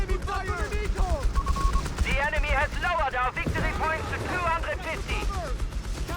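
Gunfire from British troops mows down an Italian squad in the strategy game Company of Heroes 3, rapid bursts and pops running under an excited commentator's almost constant talking.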